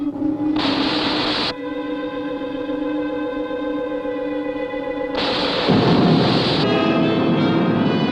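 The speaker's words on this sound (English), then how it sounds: "Stand by for vertical landing." Spaceship sound effect for a vertical landing: a steady, loud roaring engine rumble with a sustained harmonic whine, building into a heavier blast of noise toward the end.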